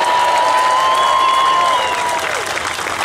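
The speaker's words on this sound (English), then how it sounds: "let's give a big round of applause for Michael Johns" Loud, full applause with some cheers from an outdoor Tea Party rally crowd in Washington on July 4th, greeting speaker Michael Johns, steady and close throughout.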